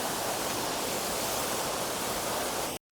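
Waterfall on the Netravathi Peak trek during light monsoon rain, a steady broadband roar of rushing water that is loud and close, cutting out abruptly near the end.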